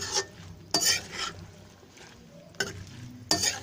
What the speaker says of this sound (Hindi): दो मिनट के लिए हम इसमें इसको भूनेंगे